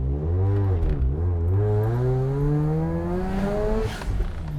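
A 2008 Mazda RX-8 40th Anniversary rotary engine revs loudly and close up, its pitch climbing steadily for several seconds, then dipping and rising again in a smooth, buzzy sweep.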